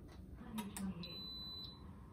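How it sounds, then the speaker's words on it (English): An Instant Pot electric pressure cooker sounds its timer beeps after a 28-minute high-pressure cycle for a coconut macaroon cheesecake: a few short, high electronic tones, one held briefly, over a low steady room hum. "28 minutes has passed. The timer just shut off."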